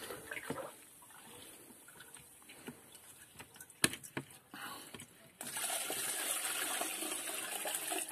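Juice is drawn off into a bucket during racking of wine off its sediment: faint dribbles and clinks at first, then a louder, steady gushing pour.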